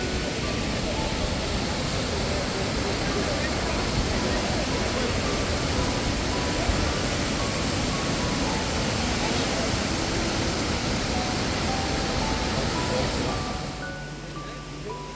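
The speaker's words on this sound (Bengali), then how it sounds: "জলের আওয়াজে রীতিমতো কানটা ঝালাপালা হয়ে যাওয়ার জোগাড়, এত জোরে শব্দটা হচ্ছে কি বলবো" Kynrem Falls in Meghalaya roaring as a loud, dense, unbroken wash of falling water, near and overwhelming for most of the stretch before easing slightly at the end.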